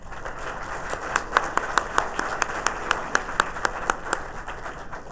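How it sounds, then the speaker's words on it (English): An audience at a University of Georgia Griffin campus graduation ceremony applauds with steady, sustained clapping throughout, a few sharp individual claps standing out from the crowd. "Please join me one more time in giving Heather some applause."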